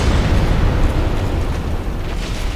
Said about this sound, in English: Large magic explosion in front of him.